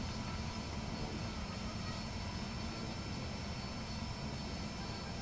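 Harrier jump jet engine from a flight simulator game, taxiing toward takeoff: a steady, loud, continuous roar with a broad whine, unbroken for several seconds and heard alone.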